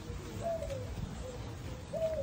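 A few soft cooing bird calls sound at a moderate distance over a steady ambient background at a bird sanctuary in the Cayman Islands, spaced a second or so apart.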